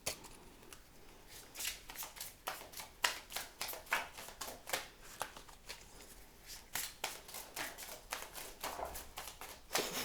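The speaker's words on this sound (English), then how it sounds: "It's so funny shuffling this deck" A tarot card deck is shuffled repeatedly in quick, crisp riffling bursts, close and fairly quiet, with no talking.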